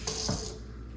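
Water streams steadily from a faucet at first, then shuts off, leaving a quiet room hum.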